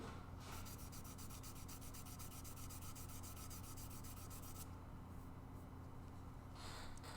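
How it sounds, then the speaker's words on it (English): Continuous abrasive rubbing of sandpaper on a wooden guitar body, steady and close for the whole stretch with a fast repeating scrubbing texture that smooths out near the end. No one talks. "I just sand until a guitar magically appears"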